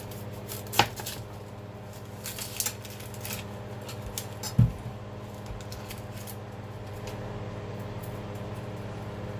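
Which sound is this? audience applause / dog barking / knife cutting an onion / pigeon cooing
knife cutting an onion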